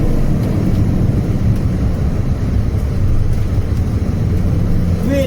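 Loud, continuous engine drone heard from inside a Mini Cooper race car during a race, the note holding steady and filling the cabin.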